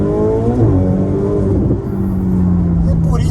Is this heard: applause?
no